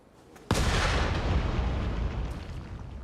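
A cannon fires in the Nioh 3 video game: one sudden loud boom that rolls on into a long rumbling roar and slowly fades, with no talk.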